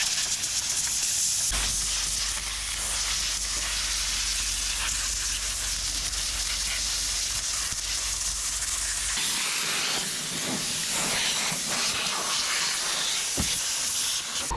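Compressed air blasting crud off a barn-find Camaro IROC-Z that has sat since the 1990s, making a continuous loud, close hiss that holds steady throughout, with a low rumble underneath for most of the stretch.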